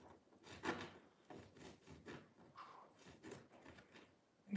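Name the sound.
burnishing stained glass foil by rubbing on wood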